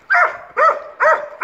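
A wild, agitated dog barks four times in quick, evenly spaced, loud bursts close by, with brief silence between each bark.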